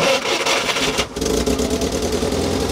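A Soviet UAZ-452-2206 Buhanka 4x4 van engine is heard running roughly. After a brief dip it settles into a steady, throbbing idle, close by, with a short spoken remark over it.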